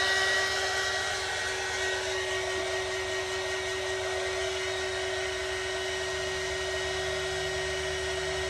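A heat gun blowing hot air while heating resin to form a wave effect on a lazy Susan, a steady continuous whine and airy hum with no pauses.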